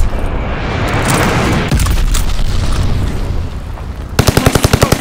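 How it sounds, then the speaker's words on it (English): Loud, dense battlefield roar of a glide bomb blast in Call of Duty Vanguard, a sustained rumbling explosion wash that gives way to a rapid, evenly spaced burst of gunfire at the end. "Enemy's got a glide bomb incoming."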